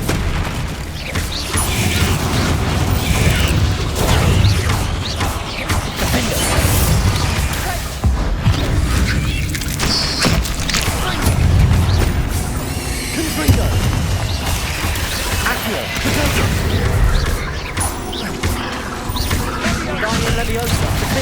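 Confringo explosive spells fired repeatedly in Hogwarts Legacy combat make loud, continuous booms and crashing blasts, layered with other spell effects and battle noise throughout.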